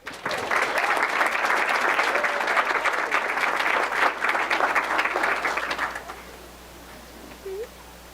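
A sustained burst of applause from a crowd at a school board of education meeting, dense steady clapping for about six seconds before it fades out, leaving faint room noise.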